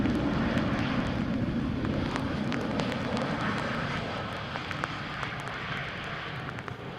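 An Embraer airliner landing at Amsterdam Schiphol Airport in showery weather roars loudly and steadily with engine noise, easing slightly toward the end, and no talking.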